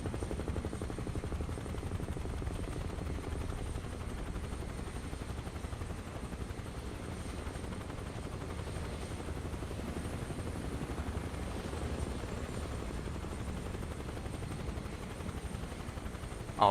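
Helicopter in flight in Microsoft Flight Simulator 2024, a steady, dense rotor and engine drone that holds loud and unbroken throughout with no voices.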